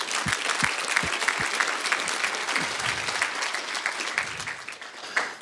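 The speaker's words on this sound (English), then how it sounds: "So let's clap yourself right now." Audience applause fills a presentation hall on a founder's tour, steady and dense clapping from a sizable crowd, close and continuous, with a few louder claps standing out near the start.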